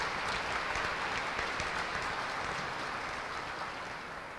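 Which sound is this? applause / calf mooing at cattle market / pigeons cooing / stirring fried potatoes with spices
applause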